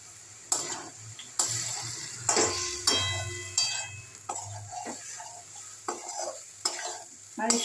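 Spices and tomato for an egg curry are sautéed in a pan, with a sizzling fry under repeated sharp scraping stirs about once a second, close and fairly loud.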